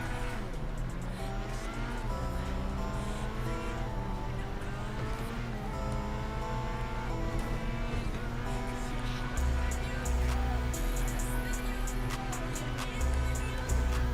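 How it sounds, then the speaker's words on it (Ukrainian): A Daytona car drives in a roleplay racing video game, its engine tone climbing and shifting through the gears with a steady loud whine and occasional tire noise, and no voices. "Це в нас Daytona PS3. Добре, тепер дивимося, як вона їде."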